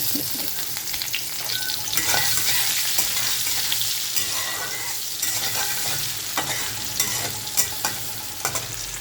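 Chopped onions and cumin fry in hot oil, a dense, continuous sizzle close by, broken by occasional scraping stirs of a spoon against the pan.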